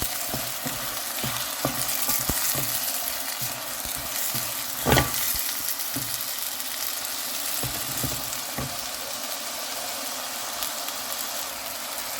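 Chopped tomatoes and two green chillies go into onions frying in a pan for a potato and egg bhujia, giving a continuous close hiss of frying broken by a few soft knocks and a single louder clatter.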